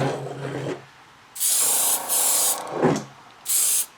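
An airbrush sprays paint onto a model car body, laying down an even first coat in several short hissing bursts, each about half a second long, with brief pauses between them, close and fairly loud.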